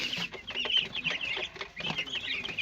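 Eight-day-old white broiler chicks chirping and peeping together in a pen, a dense, continuous chorus of high, busy calls close to the microphone with no one speaking.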